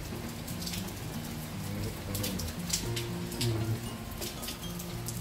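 Rain falls steadily during a typhoon with heavy wind, drops pattering densely on surfaces as a continuous wash, with faint voices low underneath.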